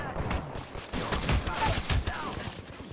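Gunfire in the Apex Legends video game, a short fusillade of several rapid shots at close range, with a player talking over it.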